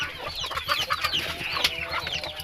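Chickens cluck busily at close range, a dense overlapping chatter of hen calls with faint pecking taps and a low steady hum beneath, continuous through the short stretch.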